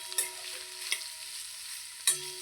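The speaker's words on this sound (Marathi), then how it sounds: "आणि आहे ना हा कांदा टाकूया. आणि आहे ना आता ह्याला सुद्धा आपण परतवून घेऊया." Green beans and onion for chicken fried rice are stir-fried in a pan: a quiet, low sizzle broken by three distinct spatula scrapes, one near the start, one about a second in and one near the end.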